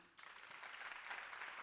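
Audience applause at a live variety show, a steady wash of clapping that swells after a brief quieter start and holds fairly loud for under two seconds.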